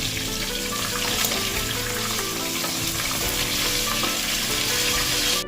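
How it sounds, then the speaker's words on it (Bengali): Fish heads frying in hot oil while being turned, a steady loud sizzle and crackle that holds through the whole stretch with no talking. "এবার মাছের মুড়োগুলো আমি উল্টে পাল্টে ভেজে নিচ্ছি"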